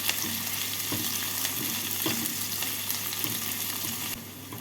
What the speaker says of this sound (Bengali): তিনটে মিডিয়াম সাইজের কুচনো পেঁয়াজ কুচনো পেঁয়াজগুলোকে হালকা করে ভেজে নেবো